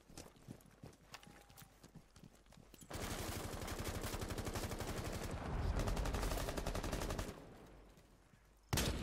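Heavy gunfire from a big-caliber weapon in the shooter game Rainbow Six Siege: a sustained loud burst of rapid shots lasting several seconds after a quieter stretch of game sounds, then a short pause and another shot.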